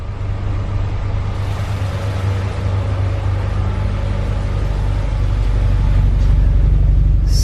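A Honda B16 swapped engine idles low at around 400 rpm: a steady, loud, close-up rumble with an even low throb that holds unchanged throughout.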